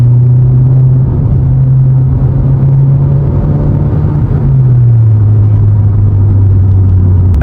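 Modified VW Polo 1.2 TSI (66 kW) with a power flow exhaust accelerating on a mountain road, a loud, steady low engine drone from inside the car that dips slightly in pitch near the end.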